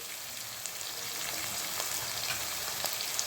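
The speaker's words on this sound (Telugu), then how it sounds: "సో ఇలా వేయించేసుకుంటూ ఉండాలి." Vegetables fry in oil for red sauce pasta, kept crunchy, giving a steady close sizzle with occasional small pops and stirring sounds, no talk over it.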